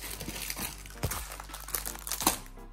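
A packaged children's apron being unwrapped, with close, quiet crinkling and crackling plastic in short bursts.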